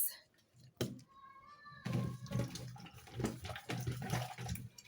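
Tap water runs and splashes in a kitchen as vegetables are rinsed in a vinegar-treated water, a brief clatter preceding an irregular, moderately quiet flow.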